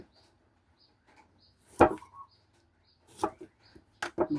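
Limes sliced with a knife on a cutting board, a few sharp separate chops spaced apart with quiet gaps and faint birdsong in the background.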